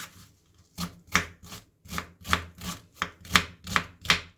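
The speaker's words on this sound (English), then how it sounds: "We need onion sliced on a really small slices." A knife slices an onion into small pieces on a board, about nine crisp, rhythmic cuts in quick succession, close and clear with no talk.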